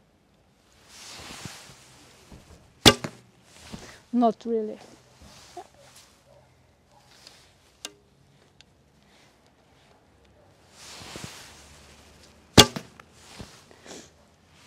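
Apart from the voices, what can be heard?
heavier arrows shot from a Turkish bamboo bow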